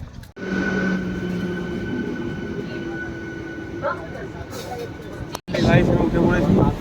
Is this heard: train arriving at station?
yes